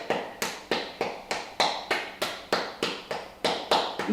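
Fist tapping the bottom of a bare foot, a steady series of about fourteen soft, dull thumps in an even rhythm, close and moderately loud with no talking.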